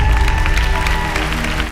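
Applause and some cheering break out from the crowd at a dance competition results announcement, a dense, steady wash of clapping that holds loud throughout and cuts off sharply.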